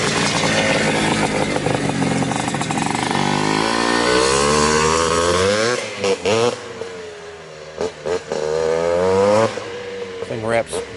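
A 1979 Honda CR250 Elsinore two-stroke motorcycle with Fox shocks and a DG pipe revs hard and loud close by, then drops into several sharp blips of the throttle.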